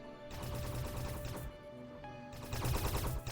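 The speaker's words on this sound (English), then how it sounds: "we are apparently shooting the crap out of rocks" Rapid bursts of spaceship gunfire blasting rocks in the space game Space Haven, a dense run of quick repeated shots with short pauses, fairly quiet and with no talk.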